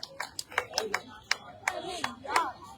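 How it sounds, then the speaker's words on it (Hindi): A small audience at a political gathering claps to welcome a district president, a few scattered, distinct claps in an uneven rhythm, fairly faint and close. "उसके लिए जोरदार तालियां बजा करके एक बार स्वागत कर दीजिए"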